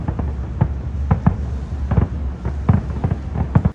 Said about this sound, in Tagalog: Nagsisimula ang fireworks at 7:45 p.m.